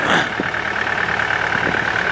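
A 66-horsepower Yanmar diesel in a Takeuchi TB285 track loader runs steadily at close range, a continuous mechanical drone with a high whine on top and no voices.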